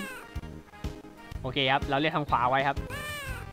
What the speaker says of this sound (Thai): ว่าไงแมวโอ้โห